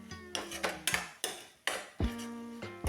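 A metal utensil clanks and scrapes against a pan while sautéing chillies and coriander, about eight sharp knocks in an uneven rhythm, close and fairly quiet, with no talking.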